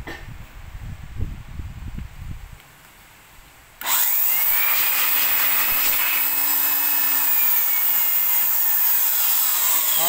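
A vacuum and blower machine switched on for a test starts with a sudden loud, steady roar that continues to the end, preceded by low handling noise and murmur.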